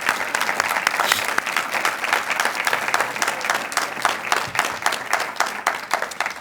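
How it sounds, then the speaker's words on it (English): Applause fills a council meeting chamber, many hands clapping in a bright, continuous wash that holds at full strength for the whole stretch, with no talking. "Let's give them a round of applause."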